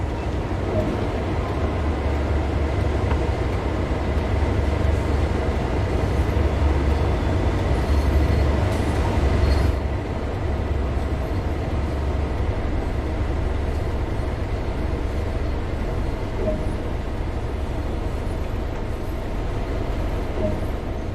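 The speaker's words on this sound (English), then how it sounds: "let's get in the train, and let's get this thing moving." A locomotive in Train Sim World 2 sits with its engine droning in a steady, loud low rumble, a faint change in tone partway through as it begins to move, with no talking.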